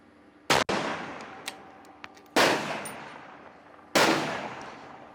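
Rifle shots fired at a 1,000-yard target in a precision shooting match: three loud sharp cracks spaced about two seconds apart, each trailing off into a long echoing decay outdoors.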